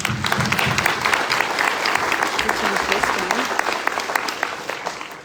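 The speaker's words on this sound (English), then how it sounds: "So let's give them a round of applause" Audience applause for the MAC board at a community meeting, dense continuous clapping from a sizable crowd that stays loud and steady throughout.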